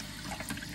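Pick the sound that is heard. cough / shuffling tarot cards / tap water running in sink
tap water running in sink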